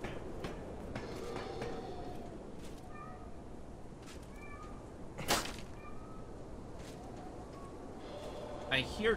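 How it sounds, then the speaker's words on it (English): Cats meow in the video game Lies of P, a few short tonal calls scattered over a steady background murmur of game ambience, moderately close with no clear talk. "Cats, I just don't know where they are."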